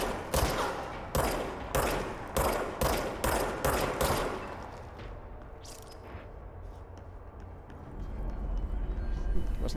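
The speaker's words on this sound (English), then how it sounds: "now they're shooting at me?" Enemies fire guns in the action game Control: about eight sharp, evenly spaced shots crack out in quick rhythm, then fade into a quieter rumbling ambience.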